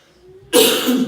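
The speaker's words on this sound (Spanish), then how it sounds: "Le agradezco por su paciencia, esta tos que me ha venido." A preacher gives one sharp, loud cough right after a faint low hum, close to the microphone and with a short tail of breath afterward.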